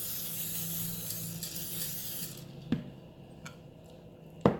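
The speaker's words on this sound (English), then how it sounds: "now I will spray oil in the mushroom" A steady hiss of cooking oil sprayed onto stuffed baby bella mushrooms for a couple of seconds, then quiet with a few soft clicks and a sharper tap near the end.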